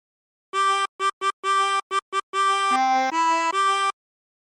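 Tremolo harmonica playing a Drunken Sailor phrase: a string of short wavering notes in a quick rhythm, then a few longer held tones, clear and alone.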